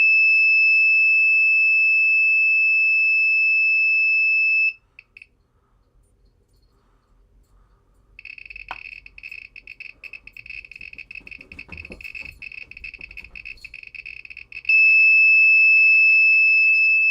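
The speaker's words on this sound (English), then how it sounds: "That's an alarm condition because of the uranium." A Geiger counter set off into alarm by uranium, sounding a loud continuous high electronic tone, then a pause, then rapid close chirping clicks, then the steady alarm tone again.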